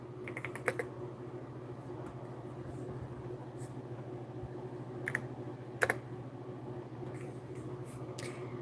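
Someone typing names on a computer keyboard during a live stream: sparse, light key clicks, some in short quick clusters, faint against a steady low hum, with no speech.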